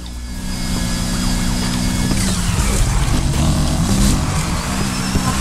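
Roaring car engines and revving motors race past in the video game Need for Speed Heat, with a faint police siren wailing in the mix, loud and continuous throughout.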